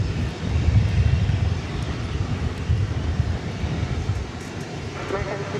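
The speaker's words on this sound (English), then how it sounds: "That was Flight 1681 arriving from El Paso, Texas, a 737-800." An American Airlines Boeing 737-800 arriving at DFW Airport gives a steady, loud jet engine roar and rumble throughout, with faint radio chatter near the end.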